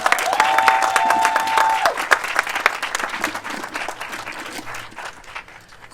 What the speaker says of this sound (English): Let's give Mimi another round of applause